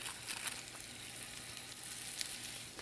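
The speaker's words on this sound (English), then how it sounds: "I'm gonna go ahead and add the tuna to the pan" Tuna steak searing in a hot pan already used for fennel, a steady close crackling sizzle with bright spits and pops throughout, no voices.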